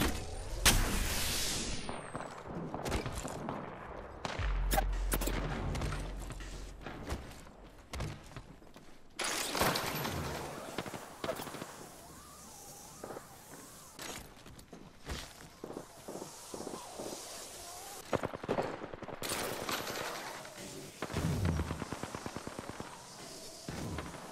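Gunfire in Apex Legends, a ranked match played as Lifeline, crackles in repeated bursts and scattered shots among footsteps, mechanical clatter and bright impacts, with loud stretches near the start and around the middle.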